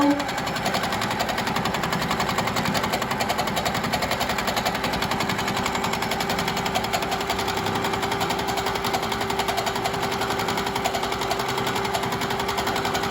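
A Baby Lock Regent longarm quilting machine stitches at a constant speed, a steady rapid mechanical rattle with a faint tonal whine, close and unbroken throughout.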